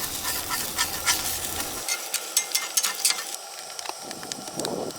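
Eggs frying in a pan at an outdoor trail cooking spot, a soft sizzle beneath sharp scraping and clicking utensil sounds in irregular bursts, fairly close, with no speech.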